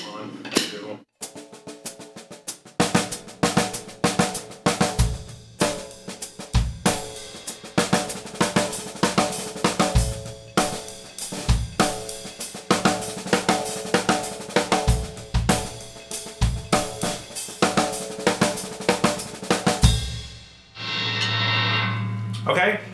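Drum kit practice of accented double-stroke rolls, loud rapid paired strokes in steady repeating bursts with accents on one hand, played alone after a brief pause, ending in a sustained ringing hit.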